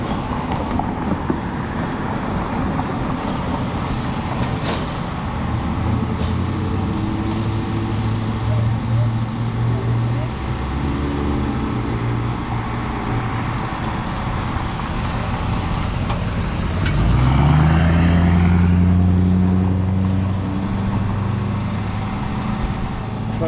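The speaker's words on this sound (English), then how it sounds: "Truck's running rich." A truck engine running rich idles and rumbles for the whole stretch, then revs up into a louder, rising drone near the end.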